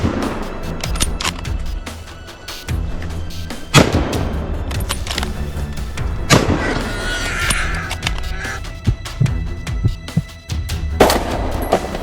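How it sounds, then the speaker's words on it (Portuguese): Loud gunshots crack out in a scattered series during a wild boar hunt, some in quick bursts, over a noisy outdoor background with birds cawing. "os caçadores conseguem abater javalis selvagens com apenas um tiro"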